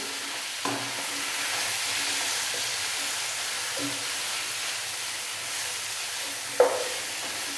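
Chicken with coarsely ground cumin and black pepper frying in a pan, a steady bright sizzle with occasional stirring scrapes and a sharper pop near the end, no voices.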